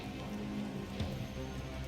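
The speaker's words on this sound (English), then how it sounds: "Let me stand here in the rain" Rain falls steadily in the video game Marvel's Avengers, a constant close hiss of drops on a surface with a faint thump near the middle.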